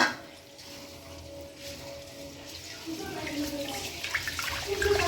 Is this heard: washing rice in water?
yes